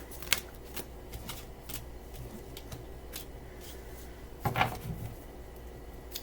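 Tarot cards are shuffled and drawn by hand, producing soft, irregular flicks and riffles with a denser shuffling burst near the end, faint and close.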